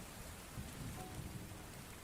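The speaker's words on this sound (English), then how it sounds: "outside you start to hear that it's raining" Faint, continuous rain with a low rumbling wash fills the background, steady and distant with no voices, used as a tabletop game sound effect.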